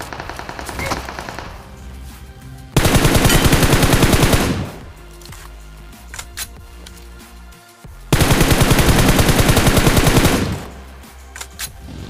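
Rapid automatic gunfire in the BGMI battle royale game, heard as two loud sustained bursts of about two seconds each, separated by quieter stretches of scattered shots and game effects.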